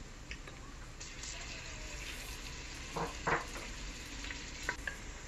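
Chopped onions and onion paste fry in a pan for bhuna khichuri, giving a steady close sizzle with a few brief louder spits and crackles, and no talking.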